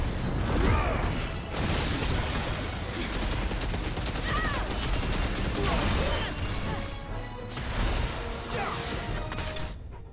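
Repeated shotgun-like ability blasts from a Final Fantasy XVI battle on PS5 boom and crash in quick succession, loud and dense, layered with whooshing effects and clattering game sounds throughout.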